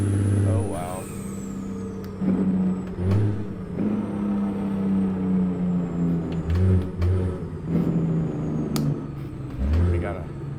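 A late-1970s Freightliner FLA truck hauling a heavy load of steel climbs a hill, its diesel engine droning and stepping in pitch through downshifts, with hisses of air in the cab.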